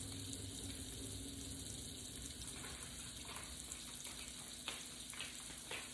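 Mini baby scallops frying in butter in a pan for seafood fettuccine, a soft, continuous sizzle with light scraping clicks toward the end.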